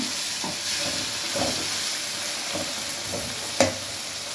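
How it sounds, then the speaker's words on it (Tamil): Tomatoes are stirred into sautéed onions in a pan, giving a steady sizzling hiss with several soft scraping stir strokes and a sharper clink near the end, and no talking. "தக்காளி போட்டு நல்லா கிளறி விடுங்க"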